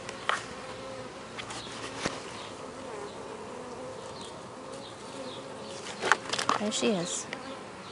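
A honey bee queen buzzes in flight outdoors over grass near a hive, a faint steady drone with brief louder passes near the end, while a person speaks briefly.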